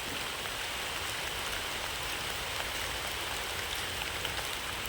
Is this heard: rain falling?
yes